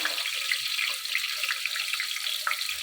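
Chopped onions go into hot oil in a pan and sizzle steadily, a close, continuous hiss with light crackles that holds for the whole stretch, no talking over it.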